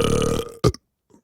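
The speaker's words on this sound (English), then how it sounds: "Don't lie to me, you just burped." A child's loud, close burp in a classroom follows a drawn-out humming vocal tone, then a faint short sound trails after the burp in silence.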